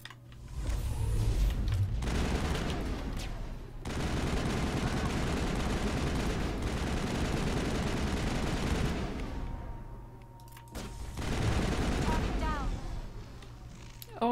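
Rapid pistol and weapon fire in Mass Effect crackles in long, dense, loud bursts that run for several seconds, broken by short pauses and mechanical clicks.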